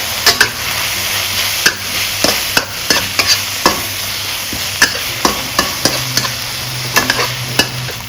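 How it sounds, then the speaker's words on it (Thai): Minced pork with chili and cha-om is stir-fried in a pan. A spatula scrapes and knocks against the pan in quick, irregular strokes over a constant loud sizzle, close up and with no talking. "ผัดแป๊บเดียวนะคะ"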